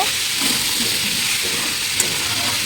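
Food seasoned with salt and turmeric frying gently in a pan, an even, close hiss with a single small click partway through and no voices.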